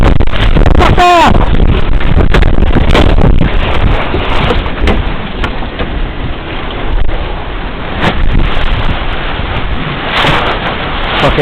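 Strong wind gusts across a lake during a windstorm, roaring and buffeting constantly and loudly, with occasional sharper rushes. A voice is briefly heard over it.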